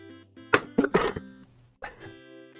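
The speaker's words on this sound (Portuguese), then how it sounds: "tossi de novo" A few sharp, harsh coughs in quick succession, close by, with a brief pause and one more softer cough afterward over a faint steady hum.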